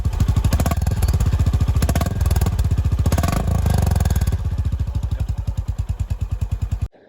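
Honda Hness CB 350 motorcycle engine running, a loud close rhythmic thump of single-cylinder firing pulses that holds steady, then slows into distinct separate beats before cutting off abruptly near the end.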